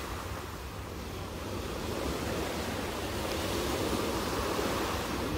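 Sea waves at Phú Hài beach wash in with a steady, rushing surf noise that swells slightly louder over several seconds, with wind across the microphone and no talking.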